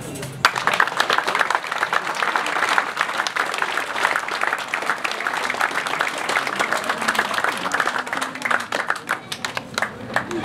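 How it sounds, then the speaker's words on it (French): A festival audience in Saint-Julien-du-Verdon applauds loudly and steadily, a dense wash of many hands clapping that holds strong from start to finish. "je vous propose de les applaudir très très fort"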